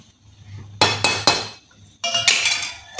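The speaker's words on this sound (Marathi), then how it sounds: "त्यावर झाकण ठेवते" A metal lid set onto a pot of brinjal curry cooking on a gas stove, giving several clinking, clattering knocks in two bursts, close and fairly loud over a low hum of the burner.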